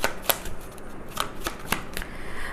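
Tarot cards riffle and snap during a deck shuffle, a few sharp flicks spaced through a soft continuous shuffling rustle, close and fairly quiet, with no talking.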